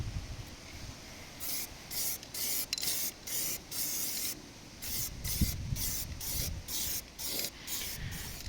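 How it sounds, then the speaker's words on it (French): Repeated short bursts of aerosol anti-chip coating sprayed onto the rear underside of a Peugeot 205, about a dozen hissing blasts with brief pauses between them, close and fairly loud. "Donc là on est en train de faire la bombe anti-gravillon."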